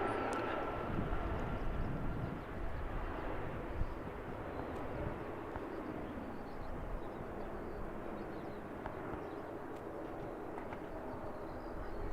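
An ATR turboprop airliner at Christchurch Airport, New Zealand, gives a steady, broad engine roar that holds for the whole stretch at moderate distance, with no one talking.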